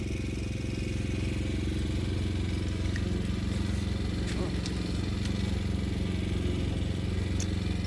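A motor mower cuts grass with a steady, loud mid-pitched engine drone and rattling clatter that runs unbroken, with faint higher ticks of debris scattered over it.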